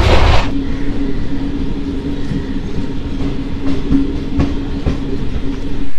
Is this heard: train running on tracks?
yes